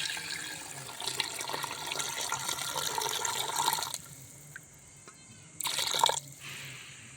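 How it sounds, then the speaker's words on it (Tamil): Water runs and splashes steadily into a cooking pot for chicken biryani for several seconds, then stops briefly before a short final pour; close and moderately quiet. "இப்போ வந்து நம்ம தண்ணி சேர்த்துக்கிறோம்"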